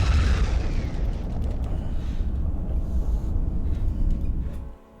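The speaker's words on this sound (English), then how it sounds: "Victor, fire phasers at one specific point. If it's effective, follow with a photon torpedo" Sci-fi phaser fire and photon torpedo explosion: a deep booming blast with rumbling, crackling decay lasting several seconds before cutting off abruptly.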